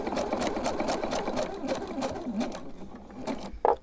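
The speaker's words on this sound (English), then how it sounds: "I'm just going to tuck it in here and fold it over and stitch into it" A sewing machine runs steadily, stitching a fabric strip onto a coiled rope trivet, a close, loud, even mechanical whir with a rapid needle pulse, ending in a brief knock.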